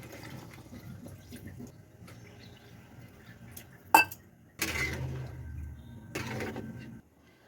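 Water is poured from a vessel into a pan of Odia macha besara, a fish curry simmering with masala, giving a sustained splashing pour after a brief clank of cookware, with a second shorter pour following.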